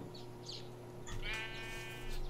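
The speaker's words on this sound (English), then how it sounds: "It was a sheep munching on grass." A sheep in a video game bleats while grazing, giving a few short bleats over a steady background hum.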